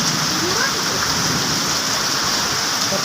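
Steady, heavy rain pours down in a storm, a dense, continuous hiss of drops drumming on surfaces close by, with no breaks or distinct voices.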